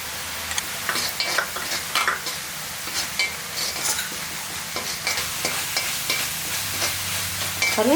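Onion paste with ginger garlic paste sautéing in a pan for Tamil-style egg masala curry, a steady loud sizzle with repeated scraping stirs of a spoon throughout, no voices.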